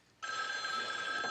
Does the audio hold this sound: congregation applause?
no